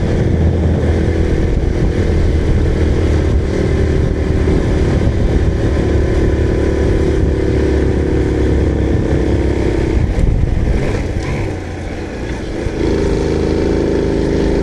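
A Honda Cub 90 motorcycle on a short local ride, its small engine droning steadily and loudly up close, with wind rush and a brief dip in revs near the end.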